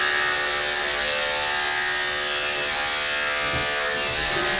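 Electric clippers shaving the tail of a cocker spaniel during a creative grooming session, a steady close and loud motor buzz that holds without a break the whole time.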